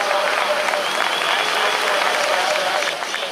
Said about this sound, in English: Crowd loving that.